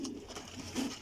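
Teddy pigeons of the Pipla breed cooing softly, a short, low, rounded coo with two swells, faint and close, with no talk over it.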